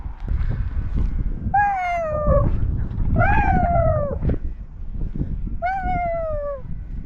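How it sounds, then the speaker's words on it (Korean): A cat meows three times, each a drawn-out falling cry, close and clear over a rumbling background. "고양이 소리잖아"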